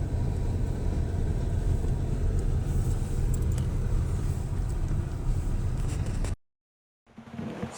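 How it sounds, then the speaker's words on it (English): Car passing near a cemetery memorial at night, a steady low rumble of engine and tyres that holds strongly, then cuts off abruptly into silence before faint noise returns. "I see a car."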